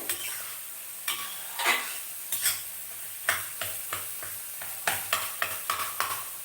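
Broad beans dry-fried in a pan with no oil, scraped and stirred with a spatula in a series of sharp scrapes and clinks over a soft sizzle, close and fairly loud, no talking.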